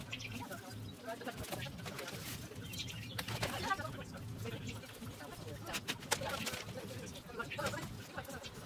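Pigeons or doves coo and flap their wings in a garden by balcony flower boxes, soft and somewhat distant under someone speaking French.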